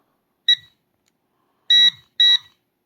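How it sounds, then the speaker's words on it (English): Metal detector switching on: three short electronic beeps, a single tone followed by a pause and then two closer-spaced beeps, clear and isolated against silence. "So let me turn on the metal detector."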